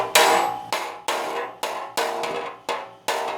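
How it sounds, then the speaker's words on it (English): Edge of a hammer tapping a body line back into the rocker panel sheet metal of a 1965 Thunderbird convertible, seven sharp, evenly spaced metallic knocks, close and moderately loud, each with a brief ringing decay. "I think if I could just tap a little with my edge of the hammer, I'll get that body line back in."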